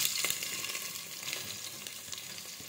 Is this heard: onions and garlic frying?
yes